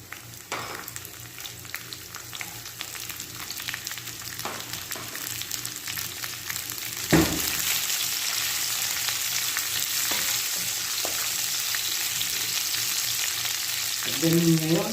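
Onions sautéing in a pan for a Filipino sardine and tomato dish give a steady, close broadband sizzle, with a louder burst as they hit the oil midway and a few scrapes near the end, no talk.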